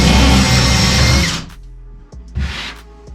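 A power drill runs in a loud sustained burst that winds down, then spins briefly again in a shorter whir, close and with no talking.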